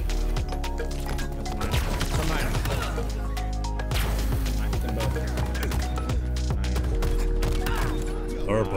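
Rapid gunfire and impact bursts from the video game Halo Infinite, repeated shots clustered through the scene over in-game music and effects, with players talking over the action.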